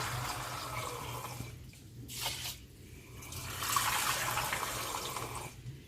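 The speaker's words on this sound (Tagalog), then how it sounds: "hugasan natin ito para ipagiling na natin." Rice being washed in water for puto bigas, a continuous sloshing and running-water wash that swells and fades in waves at close range, with no talking.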